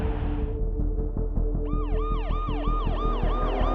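Ambulance siren in a city-building video game, a loud close electronic wail that switches into a fast repeating yelp over a steady low engine hum.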